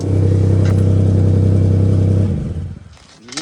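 A donor car engine with a pinched exhaust runs loud and steady with a deep, droning rumble and a slight rev, then shuts off and quickly fades to near silence.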